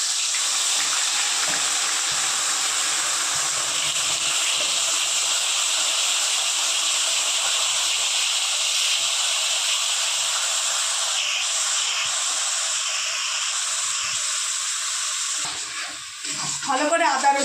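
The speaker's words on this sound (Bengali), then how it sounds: "মশলার পেস্ট দিয়ে ভালো করে কষিয়ে নেব।" Ginger, onion and garlic masala paste sizzles in a pan for chicken curry, a steady, even frying hiss that goes on throughout, with some clatter near the end.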